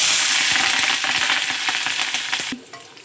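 Green chilies and onions sizzle loudly in plenty of oil, with steady frying crackle and scattered spatula scrapes, the hiss dropping off abruptly near the end.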